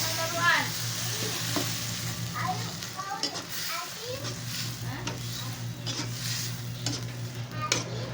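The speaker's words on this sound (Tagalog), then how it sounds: "Magsangkutsa tayo konti para malasa yung ating munggo." Mung beans sauté in a pan, giving a steady close sizzle with stirring scrapes and light clatter throughout, and a low steady hum underneath.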